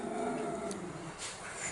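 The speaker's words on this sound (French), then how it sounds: "Désolé pour les chiens qui hurlent." Dogs howling and growling, fairly faint and somewhat distant, with drawn-out wavering tones and rough low rumbles over a muffled background.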